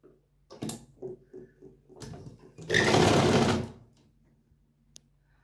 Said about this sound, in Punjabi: ਵੱਡੇ ਬਖੇ ਦੀ ਇੱਕ ਸਲਾਈ ਲਾ ਲਾਂਗੇ